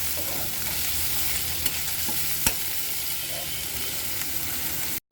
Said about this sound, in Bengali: এই হালকা তেলে পেঁয়াজ রসুন আর শুকনা মরিচটা ভেজে নিব।